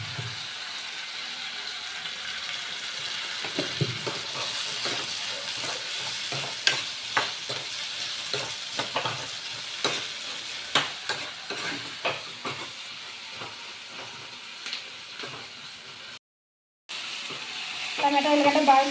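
Chopped tomatoes and onions fry in a pan while being stirred, with a soft continuous sizzle broken by repeated scraping stirs at close range. A brief dropout near the end leads into a louder burst of sizzling.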